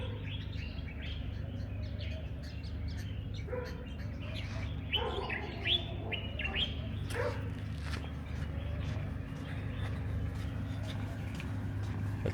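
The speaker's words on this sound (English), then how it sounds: "That's a babbler," A babbler calls outdoors in a series of chattering, scratchy chirps in the middle of the stretch, with other bird notes and a steady low hum of traffic or wind beneath.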